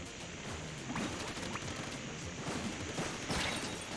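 Explosions in the Splatoon 3 story mode game crack and thump repeatedly over a dense, noisy game soundtrack, with several sharp bursts spread across a few seconds.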